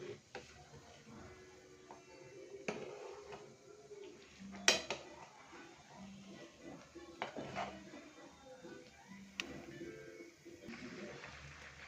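A spoon stirring ada in a cooking pot, giving sparse metallic scrapes and clinks against the pot at irregular intervals, quiet and close, with a low background hum.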